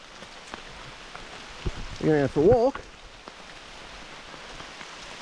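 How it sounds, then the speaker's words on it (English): Rain falls steadily as a soft, even hiss on an outdoor walk near Waitui Falls in New South Wales, with a person briefly talking over it midway. "Yeah, so it is raining."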